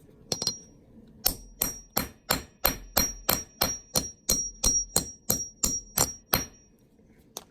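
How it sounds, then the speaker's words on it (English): A hammer drives a center punch through a 1984 quarter for a coin ring: two quick taps, then about fourteen steady, evenly spaced blows, close and loud, with a thin metallic ring lingering between strikes. "put your punch on top and drive it through with a hammer"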